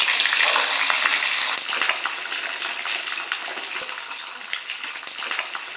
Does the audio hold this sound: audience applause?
no